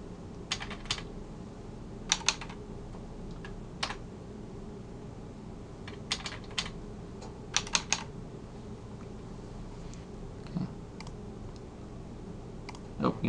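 Someone types a short password on a computer keyboard: quick clusters of crisp key clicks in short bursts with pauses between, close and fairly quiet over a faint room hum.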